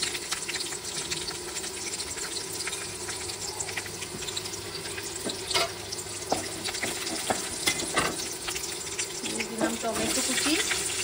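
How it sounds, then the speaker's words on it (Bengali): Dried chillies, cashews, cardamom and cloves frying in white oil for butter chicken, a steady close sizzle with stirring scrapes and a running-water sound. "দিয়ে দিলাম শুকনো লঙ্কা, দিয়ে দিলাম কাজু, এলাচ, লবঙ্গ"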